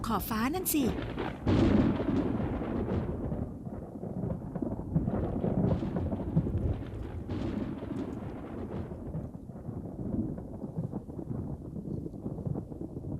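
Thunder from a dry lightning storm over a hot, parched landscape, a long deep rumbling roll with a sharp crack at the start, dense and sustained as it reverberates across the sky.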